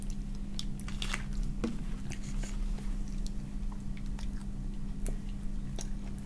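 Someone bites into crunchy karinto, a fried Japanese sweet, followed by repeated close, crisp chewing crunches at a steady pace over a faint constant hum, with no talking.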